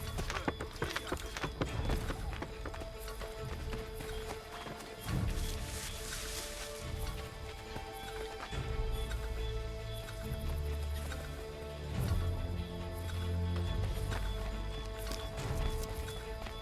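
Horse hooves clip-clopping in Assassin's Creed 3 Remastered gameplay, a steady walking rhythm of hoofbeats running through the whole stretch under game music and ambience, with no one speaking.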